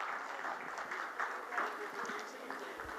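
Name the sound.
audience applause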